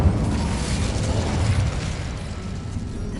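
A fire spell cast in Hogwarts Legacy, a loud, steady roaring whoosh of flame with low rumble that holds across the few seconds and slowly eases off.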